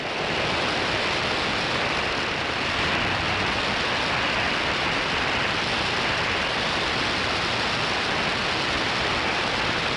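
Steady, heavy rain pours outside in a dense, unbroken hiss that holds at an even, loud level throughout, with no voices over it.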